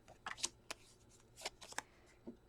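Paper being cut with scissors during a hidden pocket flip card craft: several close, sharp snips and rustles spaced irregularly, with no talk.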